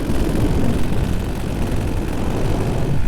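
Aircraft engine droning steadily in flight, a dense, even roar close by with no pauses and no voices.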